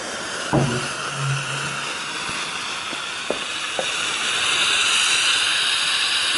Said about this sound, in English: But you already hear that steam coming out.